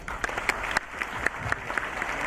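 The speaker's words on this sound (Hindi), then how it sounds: "Thank you very much in दोनों के लिए तालियां।" Scattered, uneven clapping from a seminar audience at Lovely Professional University, with sharp individual claps popping out over a busy room murmur for a couple of seconds.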